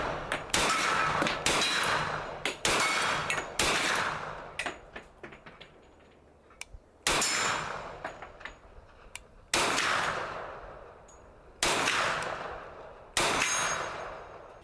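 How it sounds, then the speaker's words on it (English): A Ruger 10mm LC Carbine fires at a range day: loud, sharp reports come in quick strings and single shots, each ringing off with a short echoing tail, with no talking. "Now that we have done some shooting"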